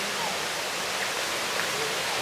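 Steady broadband rush of a river flowing past its bank at Imok, Calauan, a constant close wash of water with no breaks throughout.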